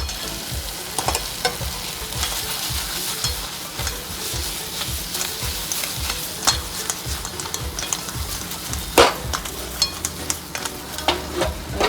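A spoon stirs veg lollipops through thick gravy in a pan with a steady scraping, bubbling sizzle and repeated rhythmic strokes, with no voices.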